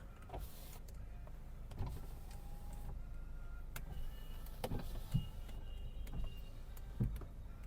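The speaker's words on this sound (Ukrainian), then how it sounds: "склопідйомники працюють" Power windows of an Opel Zafira whir up and down inside the quiet car, with faint motor hums and a few soft clicks and thumps as they stop.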